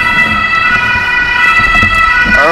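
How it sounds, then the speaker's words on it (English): An ambulance siren wails loudly and steadily nearby on a cold day in Ahrensburg, Germany, its warbling tones dominating the whole clip. "Oh, that's an ambulance."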